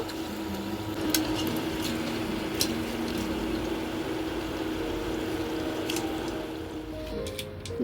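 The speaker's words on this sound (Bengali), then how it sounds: "পাপড়িগুলো ভেজে নিয়ে আমি আপনাদেরকে দেখাচ্ছি। দেখুন, এরকম লাল লাল করে আমি ভেজে তুলে নেব।" Papdi, flat chaat crisps, frying in hot oil until reddish, giving a steady dense sizzle and bubbling throughout with a few brief higher crackles, close and continuous with no talk.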